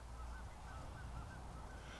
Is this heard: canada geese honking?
yes